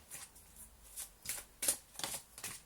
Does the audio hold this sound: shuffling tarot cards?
yes